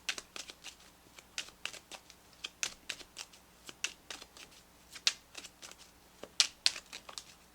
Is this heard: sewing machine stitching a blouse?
no